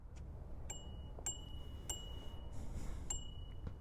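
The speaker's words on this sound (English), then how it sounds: "Let's hear the bell." Bright bell dings from a Himiway C1 kids' e-bike ring out several times in quick, irregular succession over faint background hiss, with no talking.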